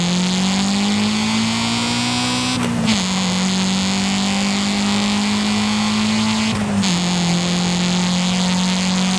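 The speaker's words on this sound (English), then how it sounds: "Hondas are very well known for their very tinny, fart canny exhaust note, but in Forza Horizon 5, well, I think they kind of overdone it." Honda EP3 exhaust in the racing game Forza Horizon 5, a droning, tinny engine note holding a steady pitch with two brief dips as gears shift, loud and alone.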